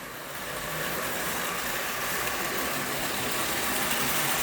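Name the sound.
O-gauge model train running around the track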